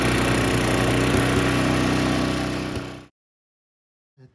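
A Craftsman snowblower engine runs loud and steady with the auger turning, then cuts out abruptly to silence, followed by a brief faint knock near the end.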